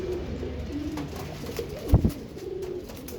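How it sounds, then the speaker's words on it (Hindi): Rainbow-coloured pigeons coo softly amid a murmur of ambient noise, with a brief louder flutter or thump near the middle of the short stretch. "ये देखो दोस्तों, ये सतरंगी कबूतर है सारे के सारे माशाल्लाह।"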